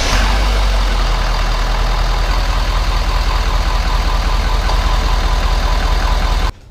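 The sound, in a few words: Ford 6.0 diesel truck engine idling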